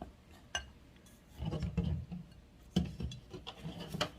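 A spoon stirs and scrapes through vegetable batter made with frying flour in a bowl, giving soft wet rubbing and several brief clinks against the bowl, close and quiet.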